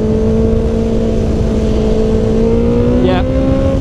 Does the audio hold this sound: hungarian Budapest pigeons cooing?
no